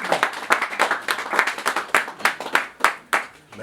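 Guests at an engagement ceremony break into applause, a lively and fairly close burst of individual claps in an uneven rhythm rather than a smooth wash, with no talking over it.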